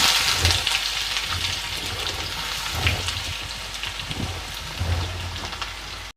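Mustard seeds, cumin and onion sizzle in hot oil for an egg and garlic dish, a steady rain-like crackle close up with occasional louder spatters and no talking.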